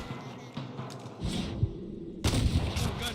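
Several heavy gunshots and booming thuds in Red Dead Redemption, the loudest burst arriving near the end, with no talking over them.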